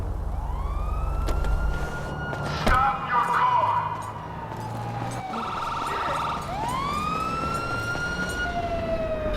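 An ambulance siren wails in an animated scene, rising and falling tones sweeping over vehicle rumble, joined by a sharp crash and bursts of overlapping siren calls, fairly loud and near.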